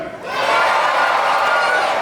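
An outdoor crowd at the Indiana Jones stunt show at Walt Disney World's Hollywood Studios erupts into loud, sustained cheering and whooping that swells quickly and holds for a couple of seconds.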